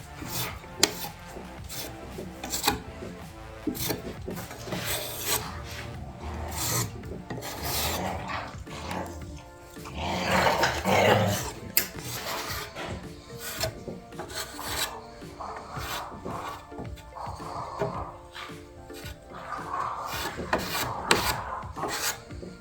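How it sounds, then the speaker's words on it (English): Wood filler being sanded on an outdoor slat-top wood bench gives a steady, close rasping rub that keeps going with short pauses, louder and grittier around the middle, with no talking. "then you're gonna sand it"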